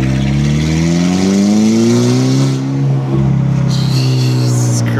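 A Volkswagen GTI with a turbocharged engine revs hard under throttle, a loud, close, rising drone that holds steady for about three seconds, dips briefly, then climbs again, with a turbo whoosh on top.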